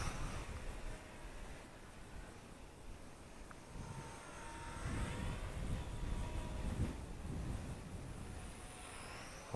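Eachine Mini Mustang P51D warbird RC model plane with gyro flying outdoors, a faint buzzing electric motor that rises and fades as it passes near and away, with wind noise throughout.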